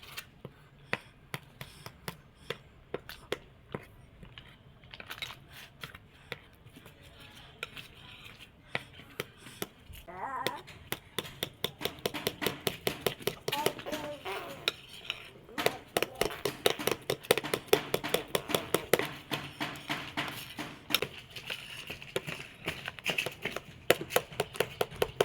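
Pancake batter being stirred with milk in a bowl by hand, a steady run of quick clicking and tapping strokes that grows louder and faster partway through, with no talking.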